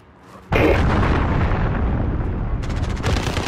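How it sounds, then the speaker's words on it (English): A large explosion from an allied cruise missile strike in a first-person shooter video game erupts suddenly, a loud sustained blast and rumble with crackling debris, followed by a second burst of crackle near the end. "Allied cruise missile on the way."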